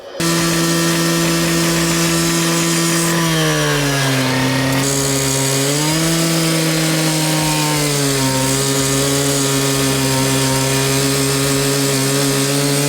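A partner saw cuts steel plate for an excavator tree shear, a loud continuous high-pitched whine and grinding screech whose pitch sags and recovers as the blade bites, alone without talk.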